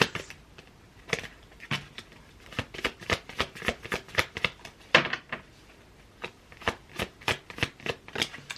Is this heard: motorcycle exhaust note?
no